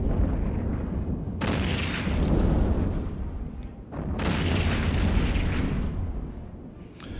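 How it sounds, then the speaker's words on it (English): Missiles exploding against a ship in the space game EVE Online, two long, loud roaring blasts that rumble for a couple of seconds each, one after the other, no talk. "It's those missiles that are hurting me."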